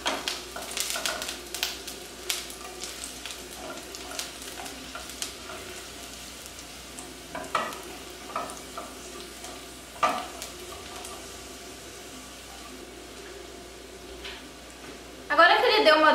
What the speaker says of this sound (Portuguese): Eu vou adicionar o alho, Vou deixar o alho dourar.